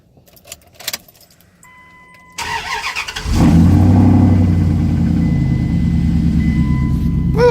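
Truck newly regeared with 4.56 gears for big tires: keys jingle, the engine cranks and fires, then settles into a loud, steady running rumble close by.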